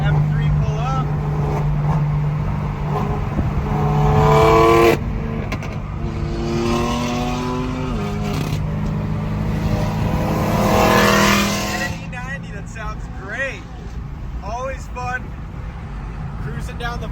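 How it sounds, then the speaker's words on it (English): BMW M3 pulling up on a freeway during a car meet cruise, its engine revving and droning under wind noise and people talking, with a louder surge midway before fading. "We got an M3 pull up."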